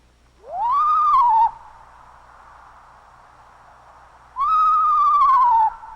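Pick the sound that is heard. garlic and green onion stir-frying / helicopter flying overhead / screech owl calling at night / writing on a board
screech owl calling at night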